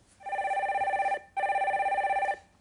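A telephone rings for an incoming call on a stock-advice call-in show, giving two loud, close, trilling bursts of about a second each, separated by a short pause.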